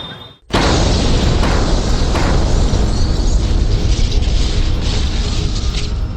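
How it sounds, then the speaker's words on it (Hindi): A bomb blast in a crowded area of Delhi erupts suddenly after a brief silence, then a loud, sustained roaring rumble of debris and noise continues without pause, with no voices. "सितंबर 2011 को दिल्ली के भीड़-भाड़ वाले इलाके में हुए इस बॉम्ब विस्फोट में 15 लोग मारे गए और 80 से ज्यादा लोग घायल हुए।"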